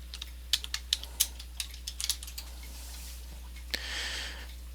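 Keys clatter on a computer keyboard in a quick irregular run of sharp clicks, close and fairly quiet, ending in one louder tap before a soft hiss.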